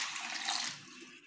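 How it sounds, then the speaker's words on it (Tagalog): Water poured into a pan of adobong kangkong with tofu, a steady hissing splash running for just over a second, close and fairly quiet, with no voices over it. "Lagyan na natin ng tubig, no?"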